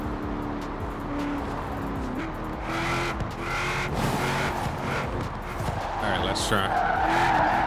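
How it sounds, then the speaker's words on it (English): Tires skid and squeal as a car spins donuts in Forza Horizon 4, driven with a steering wheel and no handbrake, engine revving steadily under someone talking. "Trying to do some donuts with this thing."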